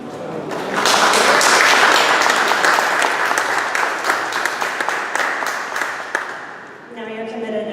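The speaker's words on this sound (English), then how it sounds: "Now you're committed and you have to clap after all of that." At an exhibition event, an audience claps after a poem reading. The applause swells loudly, holds, then thins out over several seconds before a voice starts speaking.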